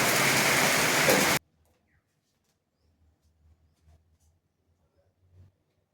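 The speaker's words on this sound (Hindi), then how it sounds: "अभी थोड़ा साउंड ज़्यादा है, बारिश रुकने देते हैं" Heavy rain falling during a mathematics lecture, a loud, steady hiss for the first second or so that cuts off abruptly, leaving near silence with a few faint low thumps.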